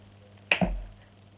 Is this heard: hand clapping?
yes